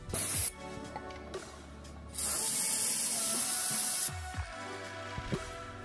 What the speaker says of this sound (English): And clean everything with brake cleaner too.